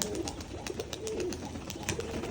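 Several Giribaz pigeons coo softly nearby, low throaty calls repeating under a busy, clattering background of wing flaps and movement.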